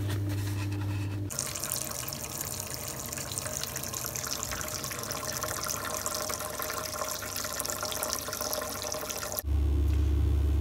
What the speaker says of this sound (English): I need to get rid of some water from the central heating system